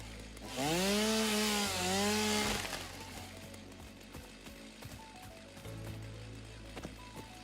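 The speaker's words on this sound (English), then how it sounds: "let's chainsaw things up a bit" Chainsaw in the video game Satisfactory revs up loudly with rising and falling whine for about two seconds, then drops to a lower idle drone with mechanical clatter underneath.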